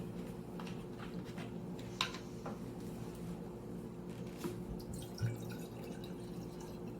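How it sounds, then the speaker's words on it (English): Vinegar pours into a jar in a faint, quiet trickle with a few soft drips and splashes over a low background hum. "So now we're going to put vinegar inside our jar."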